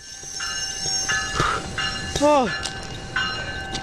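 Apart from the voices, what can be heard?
train approaching and stopping on tracks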